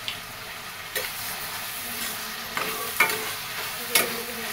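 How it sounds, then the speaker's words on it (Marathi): Tomatoes with turmeric and salt being sautéed in a pan, a steady soft sizzle broken by a few sharp stirring scrapes and clicks of a utensil, close and moderately loud with no talking. "चांगलं परतून घ्यायचं ह्याला"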